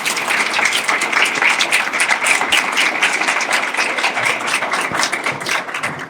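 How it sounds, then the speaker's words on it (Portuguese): Audience applause at a retail financial-solutions talk, a loud, dense round of clapping that holds steady for several seconds and eases slightly at the end. "Pessoal, salva de palmas"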